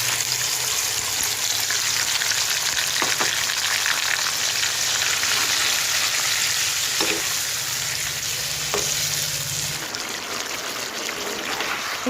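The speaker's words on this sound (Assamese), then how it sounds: "এতিয়া এই গোটেইখিনি মাংস মই ভালদৰে অলপ ফ্ৰাই কৰি ল'ম" Marinated mutton sizzles steadily in a hot pan, a loud, continuous frying hiss with a few faint stirring knocks and no talking.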